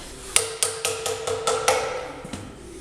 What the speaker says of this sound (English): So don't put your finger between the hammer and the stake.